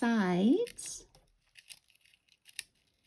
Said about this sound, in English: I'm just taking my scissors and just trimming around these sides